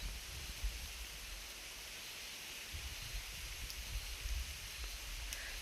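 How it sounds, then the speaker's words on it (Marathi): Rain falls outdoors under overcast skies, a faint, even wash of patter and hiss with no distinct drops or voices standing out. "आमच्या इकडं आभाळ आलेलं आहे आणि पाऊस पण चालू आहे"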